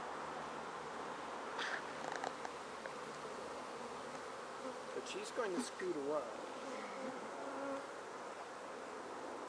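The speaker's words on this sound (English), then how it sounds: "there's not near as many bees on these frames because looks like they're all brood" Honeybees hum steadily on hive frames full of brood during a beekeeping field day, a dense close buzz with individual bees flitting past, while a person speaks briefly over it.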